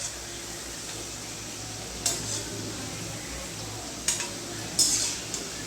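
Crispy bread vada fries in hot oil with a steady, soft sizzle while a utensil turns the pieces over, making a few brief clinks and scrapes against the pan.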